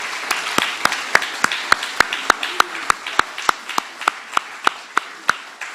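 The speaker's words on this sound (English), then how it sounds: "put your hands together as a round of applause for all of the nominees for this evening" An awards-evening audience applauding the nominees, a broad wash of clapping with a loud nearby pair of hands striking in a steady, regular beat across nearly six seconds.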